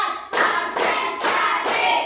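Classroom students clapping in unison during an ice-breaking clap game: four steady, evenly paced bursts of many hands, loud and close, with no one talking.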